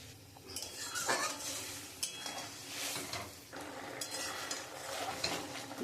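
Eggs go into a pan of mustard sauce for Bengali shorshe dim, with a soft sizzle, stirring scrapes and a few light metallic clinks from a utensil against the pan, close and moderately loud.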